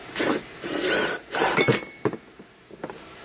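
A half-inch pipe cleaning brush tool scrubs inside a pipe, giving bursts of close rubbing and rasping with light clinks, separated by short pauses.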